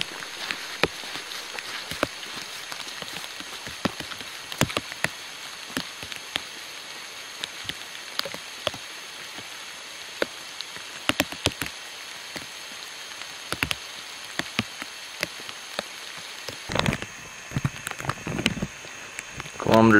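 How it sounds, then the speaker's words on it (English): Rain falls steadily on a forest road, a dense patter of close drops and scattered sharper taps continuing throughout, with a few louder knocks near the end. "still raining, not as hard, but still enough to keep me soaked"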